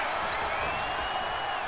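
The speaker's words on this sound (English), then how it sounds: "Listen to this crowd." A wrestling arena crowd in WWE 2K25 roars as a dense, loud, continuous wash of cheering, steady across the short stretch with no distinct voices standing out.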